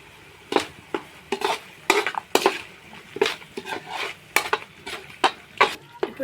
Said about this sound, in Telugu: ఇప్పుడు ఈ మసాలాని ఆయిల్ వచ్చే వరకు కుక్ చేద్దాం.